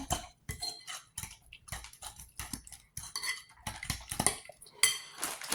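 A utensil scrapes and clinks against a pan while fried ingredients are mixed, with repeated rhythmic strokes close up and no talking.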